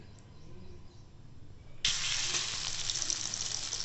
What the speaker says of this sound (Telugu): ఈ విధంగా మిగతా వాటిని కూడా సేమ్ ఇలానే డిప్ చేస్తూ ఫ్రై చేసుకోవడమే.